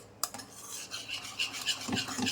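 A utensil scrapes and stirs dhokla batter against the inside of a metal kadhai in quick, uneven strokes, close and fairly quiet.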